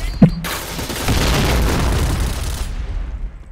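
In Point Blank, a grenade blasts loudly right after a brief voiced sound, a heavy boom whose rumbling tail fades out over a couple of seconds.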